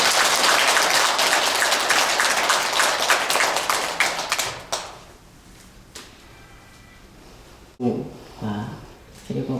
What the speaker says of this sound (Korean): 불자 여러분들께서는 모두 큰 박수로 스님을 환영해 주시기 바랍니다.